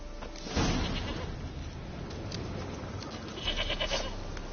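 A goat in The Witcher 3 gives a loud, close bleat near the start, and a second, fainter call follows later over a steady outdoor background.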